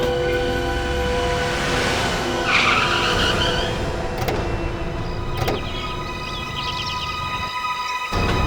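A car skids with a long, loud tire squeal at close range, followed by a few sharp mechanical clunks and a fading engine hum.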